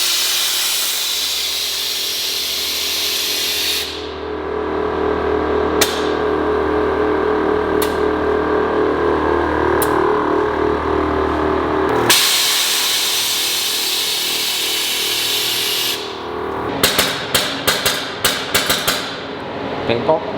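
A truck's air suspension raising to ride height, a loud continuous hiss and mechanical whir with rhythmic clunks from the compressor and valves, ending with a quick burst of sharp clicks.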